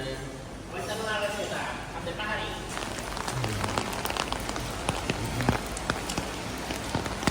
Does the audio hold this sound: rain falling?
yes